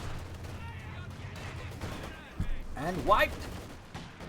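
Gunfire erupts in the World War II strategy game Company of Heroes 2 as German Wehrmacht and Soviet forces clash, with bursts of shots and impacts under a commentator's voice that rises over the later part.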